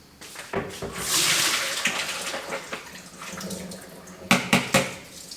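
Homemade soy milk poured through a small kitchen strainer, a steady splashing trickle of liquid that swells and fades, with a few sharper drips and clinks near the end.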